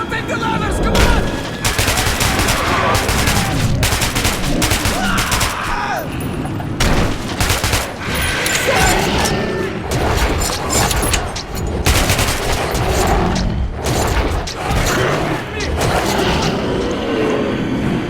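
Gunfire in the video game Metro 2033 Redux, with dense, continuous bursts of shots and booms filling the whole stretch, loud and close, with shouting voices in the mix.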